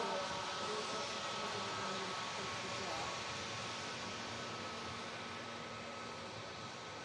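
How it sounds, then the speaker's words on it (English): A Boeing Dreamliner airliner departing Manchester Airport rolls for takeoff, its distant jet engines making a steady broadband roar that fades slightly over several seconds, with talk heard over it. "Dreamliner is rolling."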